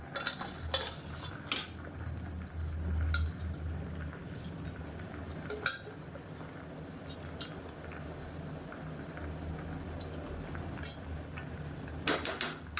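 Soaked rice being stirred into a simmering chicken biryani pot, with sporadic sharp metallic clinks and scrapes of a ladle against the vessel over a low bubbling background, a cluster of quick clinks near the end.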